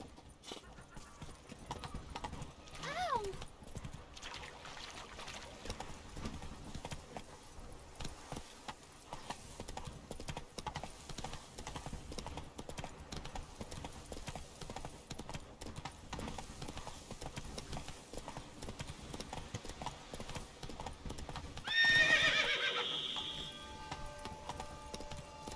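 Horse hooves clip-clopping at a steady gallop in the video game The Witcher 3, continuous and fairly quiet, with a neigh partway through and a louder whinny near the end.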